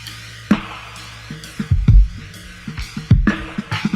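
A weird psychedelic gunshot-style sound effect sits in the background of a music production, heard as several sharp, boomy hits with swirling, warbling textures between them, layered over a rhythmic backing.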